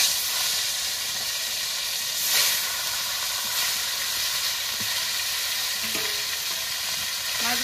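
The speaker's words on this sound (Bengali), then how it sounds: "মাছ ভাজাটা নামিয়ে নিয়েছি, এবার বাকি মাছগুলো এভাবে ভেজে নেব।" Small rohu fish frying in a pan of oil give a loud, continuous hissing sizzle with a few sharp spatters and pops near the end, close up and without talk.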